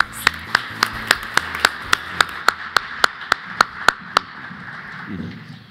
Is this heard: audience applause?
yes